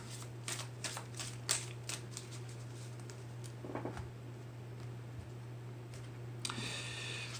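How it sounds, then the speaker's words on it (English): Tarot cards being shuffled, quiet soft riffling and patters close by over a steady low hum, with a brief louder flurry near the end. "I'm going to pull a few cards from the Akash."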